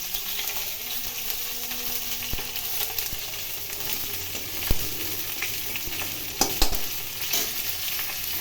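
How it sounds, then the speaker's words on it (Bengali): Fenugreek, fennel and nigella seeds temper in hot oil for a vegetable fish curry, giving a steady close sizzle broken by a few sharp pops and utensil clinks, with no voices. "মেথি, মৌরি এবং কালো জিরে ফোড়ন দিলাম।"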